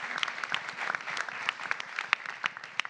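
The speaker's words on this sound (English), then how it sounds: "Let's give them both a round of applause." Round of applause from an audience at a business pitch contest, with many individual hand claps popping out of a moderate, steady crowd clapping that lasts throughout.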